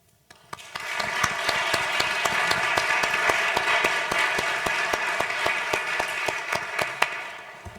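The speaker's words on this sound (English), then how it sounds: "Give them a round of applause again, please." An audience at a Veritas Forum event at Emory breaks into applause, a dense, sustained burst of clapping that swells quickly, holds steady for several seconds and then thins out.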